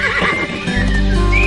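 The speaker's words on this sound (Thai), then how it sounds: "ม้าฟรายแบกเกอร์หรือที่เรียกว่าม้าฟรองมง" A Freiberger (Franches-Montagnes) horse from the Swiss Jura gives a loud, close whinny, rising and wavering, with a low rumble of movement beneath.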